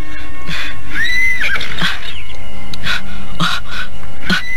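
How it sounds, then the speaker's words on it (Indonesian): Horse neighing in a rural outdoor setting, several loud whinnies close by with a long descending call, spread across the clip with no talking. "Suara kuda."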